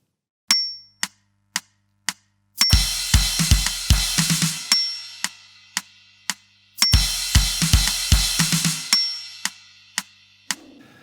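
Drum groove at 114 bpm with an added snare hit on the and of 2, from a drum part: sparse hi-hat clicks open into two busier bars of kick, snare and ringing cymbal, close and alone.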